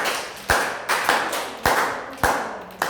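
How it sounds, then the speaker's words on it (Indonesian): Slow, deliberate hand claps at a mid-year review meeting: four or five separate claps spaced about half a second apart, fairly quiet, with a soft room echo after each. "Tepuk tangan dong, Ray."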